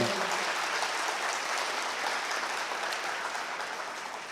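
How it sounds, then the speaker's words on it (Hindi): An audience at the sponsorship and inauguration ceremony of a high performance centre claps in a continuous, even round of applause that tapers gently as it goes on. "a big round of applause for Lahore Qalandars"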